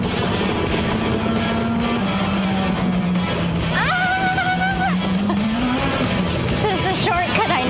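A car in a racing simulator game spins donuts. A droning engine shifts pitch under rising and falling tire squeals, with a sharp skid near the middle. The noise is loud and continuous.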